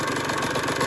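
A two-stroke dirt bike engine idles steadily close by, a continuous low putter with a fast, even pulse and no voices over it.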